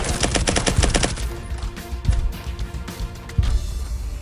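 Rapid bursts of automatic gunfire in the VR shooter Firewall Zero Hour, a dense rattling volley up front, then scattered loud single shots and impacts over a continuous game background.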